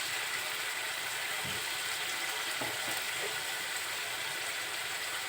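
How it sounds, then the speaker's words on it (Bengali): Ground chili, turmeric, cumin and coriander for mutton curry sizzle in hot oil in a continuous, loud, even hiss, with a few faint knocks underneath. "সব মশলাগুলো এখন কষিয়ে নিব।"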